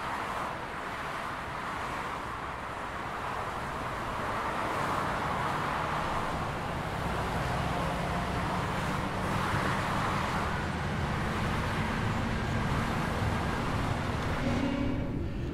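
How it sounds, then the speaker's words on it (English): Outdoor ambience in Train Sim World 3 on the Glossop route, with faint distant traffic and a train rumbling across a bridge, a soft, continuous wash that slowly swells and fades. "That was quite good with the birds tweeting and the traffic and then the train going across."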